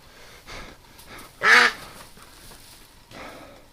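A domestic duck recovering from a foot infection gives one loud, close quack, with a few fainter calls around it in an otherwise quiet indoor space.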